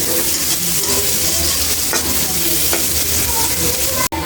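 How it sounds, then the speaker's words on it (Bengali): Green chillies and chopped onion, with garlic, fry in hot oil, giving a loud continuous close-up sizzle broken by a few faint utensil scrapes and a sudden drop near the end. "কাঁচামরিচ, তার সাথে দিয়ে দেবো পেঁয়াজ কুচি। এগুলো ভালো করে ভেজে নেব।"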